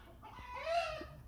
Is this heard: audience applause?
no